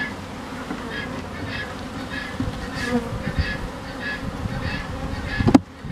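Honeybees buzz steadily at an open beehive, a dense close swarm of young bees droning continuously with a brief sharp knock near the end.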